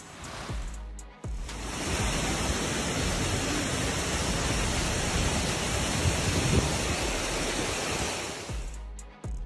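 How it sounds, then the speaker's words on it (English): Floodwaters pour down a highway in Crete during a spring storm. A loud, steady roar of rushing water runs for about eight seconds without a break, with no voices. "floodwaters poured down the Crete Highway"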